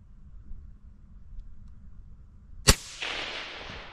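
A precision rifle fires once at small circle targets, a sharp, loud crack after a quiet stretch, followed by a brief reverberant tail.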